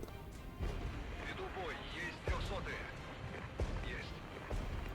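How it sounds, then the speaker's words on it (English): Incoming fire in the war game Regiments, a series of distant thuds and cracks landing every second or so under a faint, busy battlefield din, with a voice talking quietly. "They've got accurate fire coming in."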